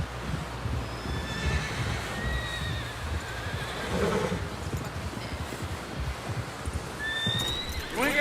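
A horse in the Red Dead video game whinnies several times, thin high neighs rising over a steady bed of hoof clip-clop and rustling outdoor ambience, moderately close and without any speech.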